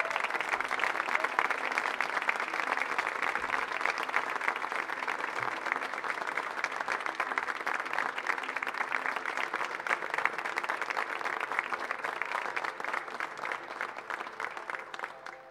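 A concert audience gives sustained applause for a singer at a tenth-anniversary choral concert, steady many-handed clapping with a constant crackling texture lasting about fifteen seconds without voices.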